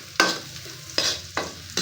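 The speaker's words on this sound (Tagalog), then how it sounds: "Mag-isa na tayo ng kamatis." Tomatoes sauté with garlic and onion in a hot pan, a steady sizzle broken by four sharp scraping stirs of a utensil against the pan, close and loud with no voices.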